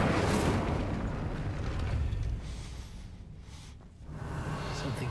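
Incendio fire spell cast in Hogwarts Legacy, a loud roaring burst of flame that rushes for about two seconds, then thins into a softer crackle, dips briefly, and swells back up.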